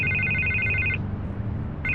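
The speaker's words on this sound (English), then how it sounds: "I can't get the phone to stop ringing." A telephone rings in Batman: The Telltale Series game, a loud steady electronic ring that stops, leaves a low background hum for about a second, then starts again.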